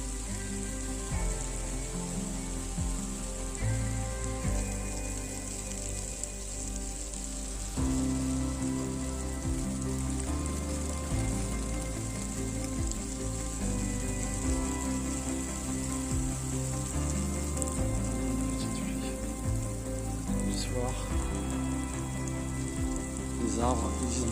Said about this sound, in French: Là, j'en fais une petite pluie,